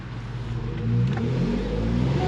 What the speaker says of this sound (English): We're gonna go take it for a quick little test drive here.